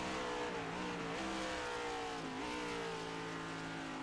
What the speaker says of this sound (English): Oh, downshifted a little bit too late there into third gear.